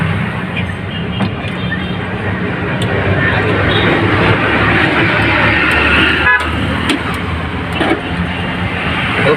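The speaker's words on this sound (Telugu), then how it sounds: "ఇప్పుడు ఇంజన్ బీటింగ్ ఇందాకటికి ఇప్పటికి ఎంత తేడా ఉందో సూపర్గా ఉందండి ఏం గలగల శబ్దాలు ఏం లేవు" Piaggio Ape auto rickshaw engine idling steadily after a rattle repair, a continuous close, loud drone with a few brief clicks and knocks and no voices over it.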